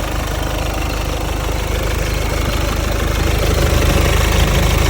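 A 2018 VW Golf 2.0 turbo engine (110 kW) runs at a steady idle while warming up, loud and close, with a continuous rumbling drone and slight knocking texture.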